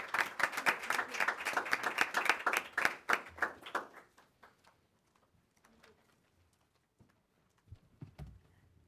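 An audience gives a round of applause for a speaker at a talk, a dense burst of many hands clapping that fades out after about four seconds, followed by near silence with a few faint scattered claps and small noises.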